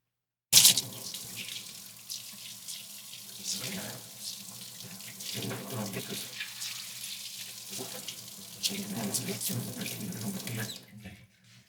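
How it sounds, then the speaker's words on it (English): Clean tap water runs over a Bosch generator part being rinsed in a sink, a steady close splashing stream with shifting surges as the part is moved, stopping near the end. "we'll rinse this off and just clean tap water"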